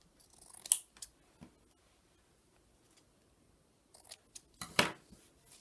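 Scissors trim leftover paper for a junk journal tag, two short bursts of close, sharp snipping with a quiet pause between them.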